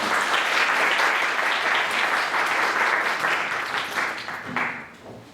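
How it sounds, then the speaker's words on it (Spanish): An audience in a lecture hall bursts into dense, sustained applause to welcome a speaker at an event on gender and public administration; the clapping stays strong, then thins out at the end. "Por favor, demos un aplauso de bienvenida"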